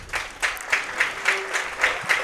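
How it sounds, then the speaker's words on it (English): A football crowd applauds an injured player at a varsity high school game, steady rhythmic clapping at moderate distance, with faint chatter in the background. "applauding for the player"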